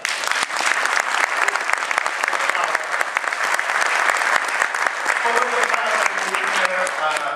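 Audience applause fills the room, a loud, continuous crowd clapping with crisp individual claps standing out, and a voice begins speaking underneath toward the end.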